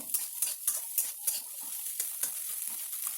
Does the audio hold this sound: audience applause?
no